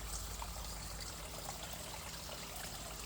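A small backyard waterfall in a mostly native garden trickles and burbles steadily, a soft, continuous splash of flowing water heard on its own at low level.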